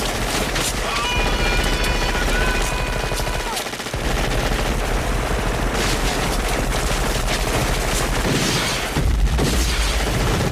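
Sustained gunfire from a Halloween 4 movie scene, loud and continuous bursts of automatic shooting with booming impacts, briefly dropping out near the four-second mark before the barrage resumes and swells again near the end.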